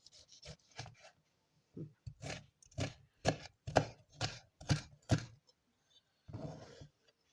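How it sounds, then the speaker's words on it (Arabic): A knife chops tomatoes on a wooden board for a Lebanese shanklish salad, a close series of about a dozen sharp, irregularly spaced thuds with short pauses between bursts. "هلا عم نقص البندورة ترانشيت ترانشيت، بس بدنا نفرمه"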